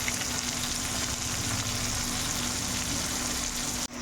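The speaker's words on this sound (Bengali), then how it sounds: "কপিটা আমার প্রায় ভাজা হয়ে গেছে" Cauliflower frying in hot oil sprinkled with turmeric, a steady, close sizzle that holds evenly and cuts off abruptly near the end, with no talking.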